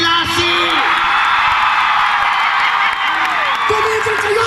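Concert crowd in Davao City clapping steadily with whoops and shouts, a loud, continuous wash of applause and cheering close around.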